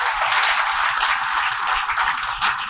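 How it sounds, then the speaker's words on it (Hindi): Sustained applause from an audience at an ONGC Mumbai Bhim Jayanti event with 150 school students, a dense wash of many hands clapping at once, loud and even from start to finish. "एक बार जोरदार सबके लिए ताली हो जाए"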